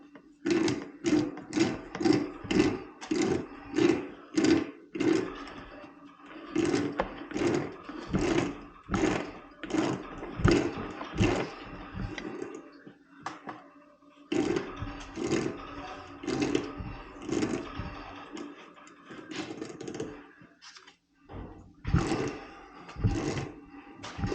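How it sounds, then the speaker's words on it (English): A wrench ratchets steadily as a water heater anode rod is tightened into the tank, with loud, close, rapid clicking runs broken by short pauses, alone without speech. "Still turning in the tank, so I'm just going to keep on tightening it until I can't tighten anymore."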